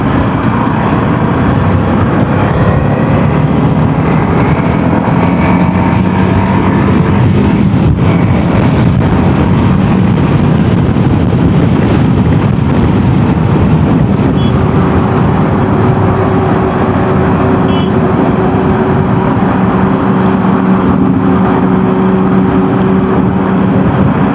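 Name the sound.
TVS RTX 300 motorcycle riding on highway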